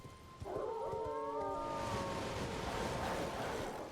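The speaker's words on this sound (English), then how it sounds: "A random wolf spawn." Wolf howl in the video game Elden Ring, heard during a random wolf spawn on the way to Stormhill: several overlapping howls rise and waver for a couple of seconds, then give way to loud, steady ambient game noise.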